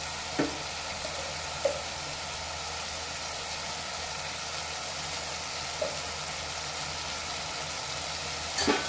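Ridge gourd curry seasoned with salt and chilli sizzles steadily in a pan as it is stirred, with a few soft clinks of the spoon against the vessel and no talking.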